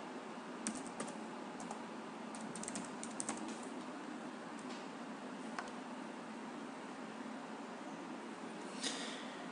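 Someone types a CAPTCHA on a computer keyboard, giving quiet, irregular clusters of key clicks over a steady background hiss.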